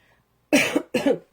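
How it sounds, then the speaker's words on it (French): Two short, close coughs in quick succession, each a sharp burst with a rough, throaty tail, after a moment of near silence. "vous venez d'entendre ma petite toux"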